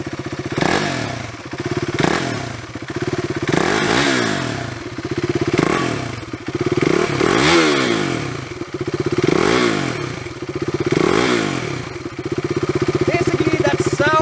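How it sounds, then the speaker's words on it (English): KTM Duke 390 motorcycle engine cranked up and running nearby, with repeated revs rising and falling every couple of seconds over a loud idle, plus some mechanical clatter. "Now let us go and crank the Duke up so that we get the immediate impression"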